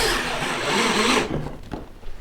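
A drill whirs loudly and steadily while rigging a homemade styrofoam fishing kayak, then stops and gives way to a few sharp clutch clicks and rattles.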